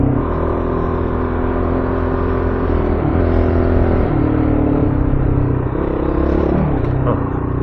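Dual-sport motorcycle, a Honda CRF450L or KTM 690 on an Oregon backcountry dirt road, revving hard as it pulls into a wheelie, a loud steady engine drone with rising and falling pitch close by.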